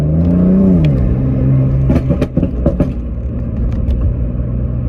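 Tuned BMW M4 with MHD Stage 2 tune revving hard on a neighborhood street, deep loud exhaust roar rising and falling with a burst of sharp crackling pops midway, close and alone.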